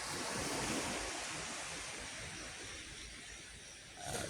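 Sea waves at Long Beach in the morning, a steady hissing wash of surf mixed with wind buffeting the microphone, with a brief swell near the end.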